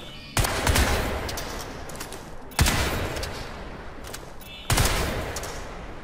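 Weapon fire in Crysis 3 comes as three loud, close volleys spaced about two seconds apart, each a hard crack that rings out into a decaying tail, with no voices.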